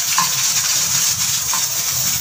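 Cumin seeds and garlic frying in hot oil for a tadka, giving a steady, close hiss and sizzle with faint crackles throughout and no voices.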